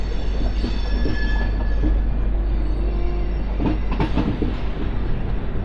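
The Yesvantpur–Secunderabad Garib Rath express runs on rails near Krishnarajapuram, heard from inside with a continuous loud low rumble, rhythmic wheel clatter and faint squeals.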